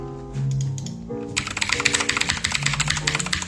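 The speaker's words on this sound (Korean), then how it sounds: "제가 이제 키보드 소리 나는 걸 좋아해가지고" Rapid clacky keystrokes on a loud mechanical keyboard start partway through, following a brief stretch of soft background music, with fast irregular taps close to the mic.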